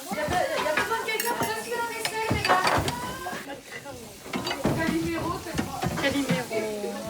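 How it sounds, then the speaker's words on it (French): Dishes, pots and cutlery clinking and scraping as a group washes up together after a shared meal, in a steady run of clatter with people talking throughout. "On a mangé ensemble, du coup, on fait la vaisselle ensemble."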